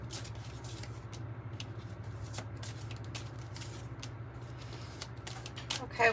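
A tarot card deck being shuffled by hand, repeated quick riffling and flicking of cards over a low steady hum, close and fairly quiet, with a louder burst at the end.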